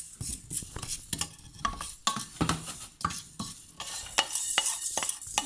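Spices dry-roasted in a pan for a Sri Lankan prawn curry, busy rhythmic scraping and stirring with light rattles and a faint sizzle, close and continuous with no voices.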